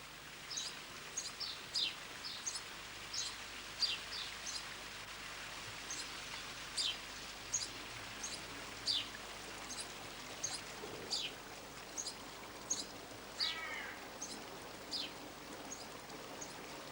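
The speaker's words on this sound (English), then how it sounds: "Listen to the sound of running water." Running water trickles and flows steadily in a Persian garden, soft and continuous, with birds chirping repeatedly over it.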